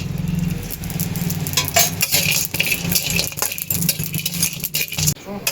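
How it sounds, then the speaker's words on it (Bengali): Whole spices dry-roasting in a hot pan for chicken biryani, a dry rattling patter and scraping of a spoon stirring them, close and continuous. "আমি এগুলো শুকনো খোলায় ভেজে নেব"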